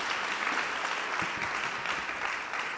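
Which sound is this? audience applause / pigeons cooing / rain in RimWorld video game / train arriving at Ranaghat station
audience applause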